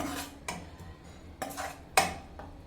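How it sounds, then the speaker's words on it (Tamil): Lemon rice masala sautéing in a pan over medium flame: a few separate scraping and clinking spoon strokes against the pan over a faint low sizzle, close and fairly quiet, no voices. "மசாலாவோட பச்சை ஸ்மெல் போக மீடியம் ஃப்ளேமில் வச்சு நல்லா வதக்கிக்கோங்க"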